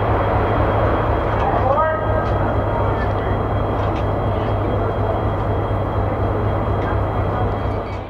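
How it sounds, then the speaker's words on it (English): A Pullman passenger train backs out of Union Station with a steady low rumble and hum of cars rolling on the rails, brief squeals rising in the middle, continuous and close throughout. "the train backs out of Union Station"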